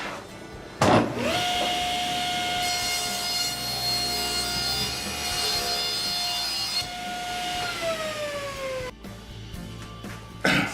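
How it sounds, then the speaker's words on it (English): A circular skill saw rough-cuts a sheet of plywood along a squared guide, its motor whining up loudly, holding a steady tone through the cut, then winding down at the end. "I'm just going to do a rough cut with the skill saw"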